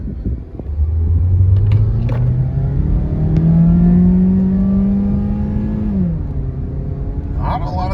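A 2016 Toyota Yaris accelerates from inside the cabin, its small engine droning and climbing steadily in pitch before easing off with a gear change, loud and continuous with no talk.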